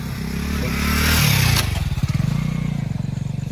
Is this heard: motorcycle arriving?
yes